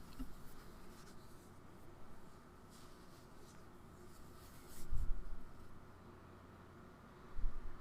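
Fine-tipped fashion liner pen writing a word on paper, soft scratchy strokes heard close and faint against a quiet background, with a couple of slightly louder scrapes near the end.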